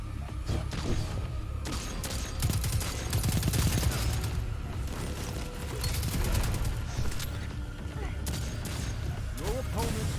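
Rapid bursts of automatic gunfire and scattered shots in the online shooter Duty Bound, a dense, continuous firefight with mechanical weapon clatter, heavy low-end booms and game announcer voice lines mixed in throughout.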